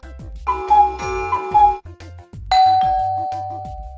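A two-tone doorbell chime rings several times, bright and clear, over a steady thumping musical beat.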